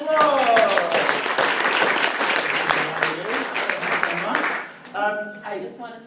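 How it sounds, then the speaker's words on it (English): An audience in a meeting room at a business group talk breaks into loud, sustained applause for a volunteer named Cindy, with voices rising over the clapping. The applause fades out near the end, leaving someone speaking alone. "Give Cindy a round of applause."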